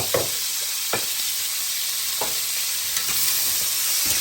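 Butter sizzles in a pan with pork chops and peppers, a constant soft hiss broken by a few sharp utensil clicks.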